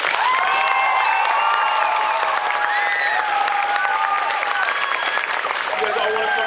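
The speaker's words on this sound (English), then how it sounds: "Can I get a big round of applause for this group" Crowd at a comic convention cosplay contest applauding and cheering for a costumed group, dense sustained clapping with whoops and shouts from the audience, a voice calling out over it.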